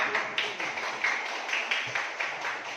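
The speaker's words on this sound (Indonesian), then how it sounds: "tepuk tangan buat." Schoolchildren in a fifth-grade classroom clapping together, a dense, steady patter of many small hands lasting throughout, fairly close and moderately loud.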